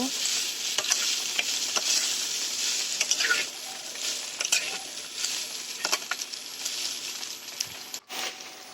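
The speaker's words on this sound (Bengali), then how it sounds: "এরপরে আমি আলু সয়াবিনগুলো ভেজে রেখেছিলাম সেগুলো এর সাথে মিক্স করব। কিছুক্ষণ আমি কষে নেব।" Fried potatoes and soybeans stir-fried with spices in a pan: continuous bright sizzling with repeated spatula scrapes and stirring strokes, close and fairly loud, no talking.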